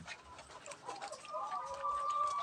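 Three newly arrived chickens clucking in a backyard pen, soft repeated clucks and a drawn-out tonal call near the end, fairly faint and close with no talking.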